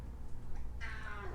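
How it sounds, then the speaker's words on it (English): Seventeen-year-old pet cat giving a single faint meow near the end, under a steady low room hum. "Comes the cat to meow."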